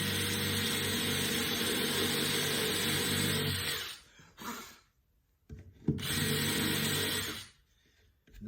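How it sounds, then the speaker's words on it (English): A drill press whirs loudly as it bores holes into a wooden drill press table insert, a sustained grinding drone for several seconds, then spins down and briefly cuts again twice. "So now's a good time to drill these holes down"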